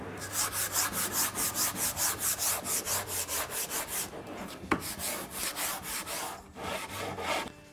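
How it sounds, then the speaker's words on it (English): Timber is sanded by hand in rhythmic back-and-forth strokes, about two or three per second, close and loud, with one sharp knock partway through and a short pause before the strokes resume. "Now, of course, it's time for good old-fashioned sanding."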